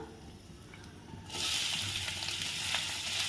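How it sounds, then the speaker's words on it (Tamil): Onions dropped into hot oil in a kadai, a sudden broad sizzle that starts after a quiet moment and holds steady and close for the remaining seconds, with no voices. "இப்போ ஒரு கடாயில் நான் கொஞ்சமாக ஆயில் ஆட் பண்ணியிருக்கேன். ஆயில் நல்லா சூடாயிடுச்சு. இப்போ இது கூட நம்ம கொஞ்சமாக ஆனியன்ஸ் ஆட் பண்ணிடலாம்"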